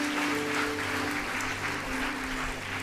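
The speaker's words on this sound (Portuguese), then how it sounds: "Você pode aplaudir o Senhor por esse coração abençoado?" Steady applause from a church congregation, moderately quiet and continuous throughout, with a faint sustained tone from the sound system underneath.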